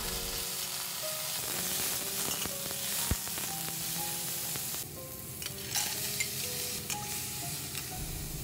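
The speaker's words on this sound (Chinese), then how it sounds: "把事先准备好的配菜先下锅炒" Prepared side ingredients stir-fried in a hot wok before seafood and taro noodles go in, giving a continuous close sizzle broken by repeated scraping and clinking of the spatula against the metal, steady and unaccompanied by speech.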